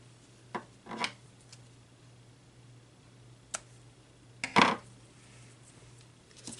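Scissors trim ribbon on a handmade scrapbook layout with a few quick, quiet snips spread out over a faint steady hum.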